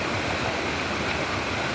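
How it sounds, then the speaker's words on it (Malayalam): A white, foaming river rushing like a waterfall gives a dense, constant roar of water, close and loud throughout with no voices. "നല്ല വെളുത്ത് നല്ല പതഞ്ഞൊഴുകുന്ന പുഴ കേട്ടോ."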